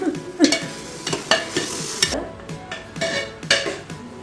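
Garam masala being stirred into a dish in a pan, with a spoon scraping and clinking against the metal in repeated strokes over a steady sizzle, close and moderately loud.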